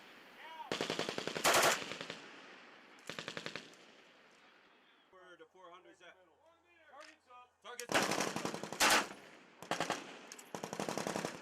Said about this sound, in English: I got to shoot machine guns.